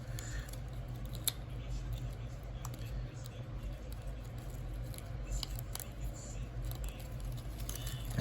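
Plastic parts of an Optimus Prime transforming toy being rotated and pegged into place make small, sparse clicks and taps over a steady low background hum, close and fairly quiet.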